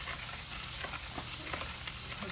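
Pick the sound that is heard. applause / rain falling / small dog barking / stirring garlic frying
stirring garlic frying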